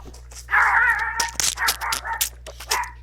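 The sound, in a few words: dog barking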